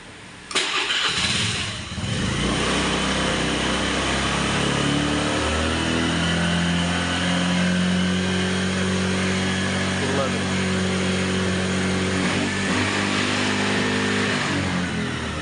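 A vehicle engine with a newly fitted regulator cranks and catches, then settles into a steady, close idle that keeps running to the end, with a voice speaking over it.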